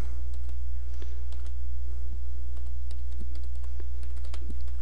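Typing on a computer keyboard: a steady patter of light key clicks over a constant low electrical hum, close and without speech.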